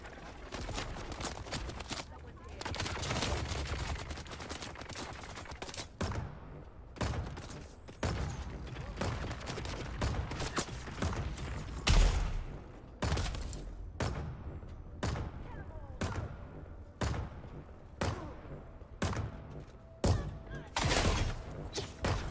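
A placed turret in Dune Awakening fires a steady series of sharp, evenly spaced shots, loud and close, with a few denser bursts early on and no talking.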